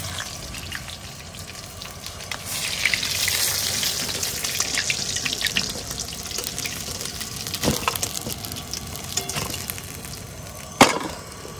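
Fish frying in hot oil in a steady, bubbling sizzle that rises a little partway through, broken by a few sharp clatters and a louder knock near the end.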